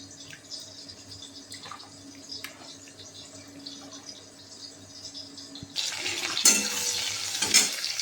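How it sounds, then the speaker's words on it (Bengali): Cut bottle gourd pieces being washed in water, soft splashing and dripping at first, then louder running water and sloshing toward the end, close by with no speech. "এবার সবজির লাউগুলোকে ভালো করে ধুয়ে তুলে নেব।"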